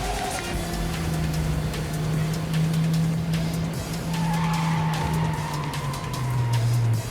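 A car in the video game Neverness to Everness skids with a sustained tire squeal over a steady engine drone, its pitch sliding downward toward the end.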